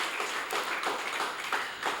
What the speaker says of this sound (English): A round of applause for the poets once again